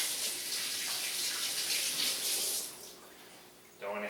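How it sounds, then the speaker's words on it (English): Hands washed under a running kitchen tap, a steady close hiss and splash of flowing water that fades after a few seconds before a brief clatter. "And I'll wash my hands."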